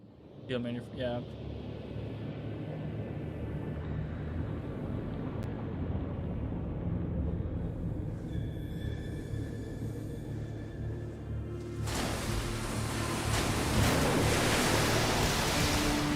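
A high-pressure water cutter sprays in Metal Gear Solid 2, a steady loud hiss that swells into a harsher, brighter blast partway through.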